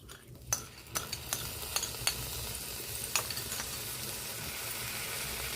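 Ginger, onion and garlic paste frying in a pan for chicken bhuna khichuri, a soft steady sizzle broken by sharp clicks and scrapes of stirring.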